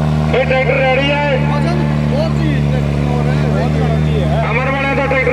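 A Farmtrack 6055 tractor engine runs at a steady, loud idle with a deep, constant drone, while people talk over it throughout.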